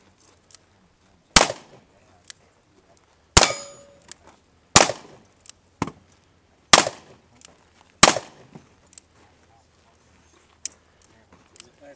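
Gunshots ring out at a cowboy action shooting match stage, sharp loud single reports hitting steel targets at irregular intervals, about six main shots with metallic pings and quieter clicks between, some faint voices in the background.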